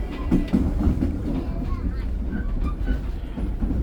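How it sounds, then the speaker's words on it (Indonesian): Merak local train arriving at Serang station, heard as a steady low rumble of wheels and carriages with faint clatter, while a voice speaks over it nearby. "Sesaat lagi kereta api lokal Merak akan segera tiba di stasiun Serang"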